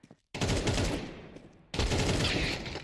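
Rapid automatic gunfire from a shooter video game during a league match, two loud dense bursts separated by a brief quieter gap, close and harsh.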